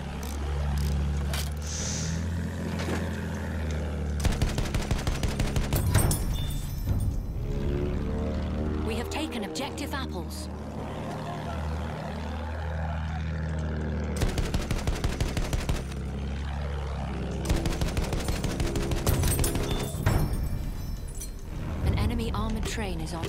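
Heavy anti-aircraft gunfire in a video game, dense rapid bursts rattling over a constant engine drone, with loud stretches of firing broken by short pauses across the whole span.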